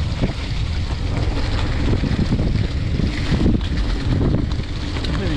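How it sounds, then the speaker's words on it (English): Rushing wind roars over the microphone while riding a mountain bike down a wooded trail in a state park, a loud continuous buffeting with no voices. "Hope that wind is like music to you."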